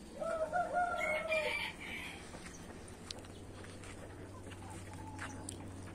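A rooster crows once nearby, followed by soft scattered clucks and faint bird calls from chickens over a quiet background.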